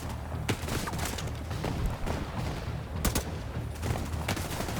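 Sustained gunfire from enemies firing from behind cover in The Division 2, dense overlapping rifle shots and bursts crackling steadily with a few sharper nearby cracks, no speech.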